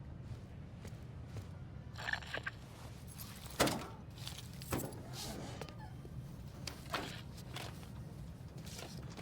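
Car keys with a fob jangle softly in Call of Duty Black Ops 6, a few brief metallic clinks and rattles over a quiet ambient background.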